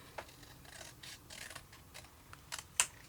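Scissors snipping through card for a small easel fan card, a few short crisp cuts and rustles spread across the moment, quiet and close, with no voices.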